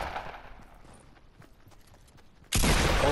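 Sniper gunfire in Fortnite Battle Royale: after a stretch of quieter scattered clicks and shuffles, a sudden loud blast of gunfire bursts in near the end and holds strong.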